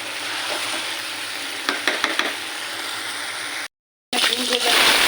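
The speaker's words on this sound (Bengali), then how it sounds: "ডিম ভেজে" Boiled eggs fry in hot oil with a steady close sizzle, a few sharp spatter pops midway, then a brief cut of silence before the frying resumes louder.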